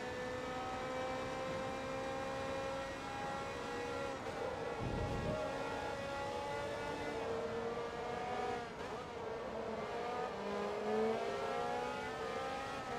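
A Peugeot race car engine in Forza Motorsport 2 roars loud and close for the whole stretch, its pitch climbing and dropping through gear changes and revs with no voices over it.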